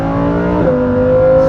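Lamborghini Huracan EVO in sport mode, a loud close engine drone whose pitch steps up partway through as the revs climb, short and unbroken.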